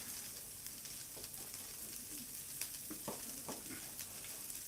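Steak sizzling and spitting in a hot pan, a steady fizzing hiss with scattered pops and crackles, close and fairly quiet, no talking.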